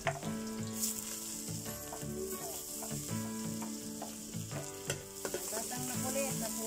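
Steady crackling sizzle of sautéed mung beans with pork in a very hot pan, close and continuous, with a few clinks of a utensil stirring.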